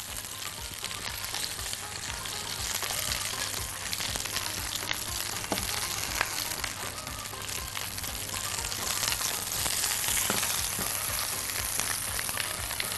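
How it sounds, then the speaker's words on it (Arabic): Hot peppers fry in oil in a pan, making a steady, dense sizzle and crackle that holds close and loud throughout, with no talking. "بعد ما خلاص الفلفل اتشوح وخد لون حلو هبتدي اخرجه من الزيت"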